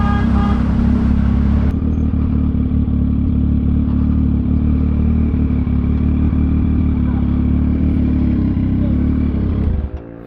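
Heavy road traffic crawls through Pulang Lupa, Las Piñas, a loud, unbroken low rumble of idling and creeping engines that holds steady before dropping away at the very end.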